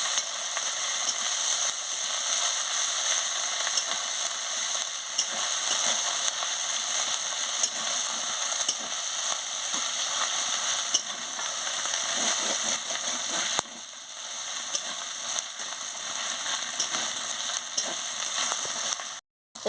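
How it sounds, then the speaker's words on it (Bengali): Ginger and garlic frying with onions in a pan, a steady hissing sizzle with light crackling, continuous and even at moderate volume, briefly dipping near the end. "দিয়ে ভালো করে ভেজে নিচ্ছি।"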